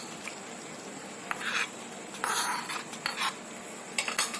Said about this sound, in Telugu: జీడిపప్పు, కొబ్బరి వేయించుకున్నది ముందుగా ఈ చక్కెర పొంగల్లో కలుపుతున్నాను.